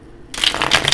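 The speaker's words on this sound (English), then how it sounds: "2 more shuffles for my Taurus." Tarot cards being shuffled up close, a quick crisp riffle of papery flutters following a brief quiet start, with no voices.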